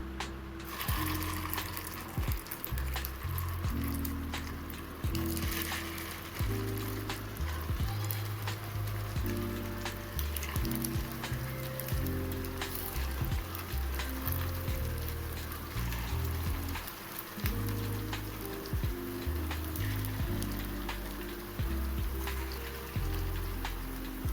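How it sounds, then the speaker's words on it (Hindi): Filled kachoris sizzle steadily in hot oil, a dense crackling hiss that runs loud and continuous throughout, with a low patterned rumble beneath and no talk. "तो चलिए सारे में डाल दिए हैं कचौरी को फ्राई होने के लिए।"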